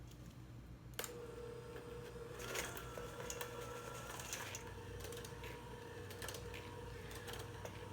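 An electric mixer creams butter and sugar for salted caramel cookie dough, giving a steady motor whir with a low hum and scattered light clicks and rattles throughout.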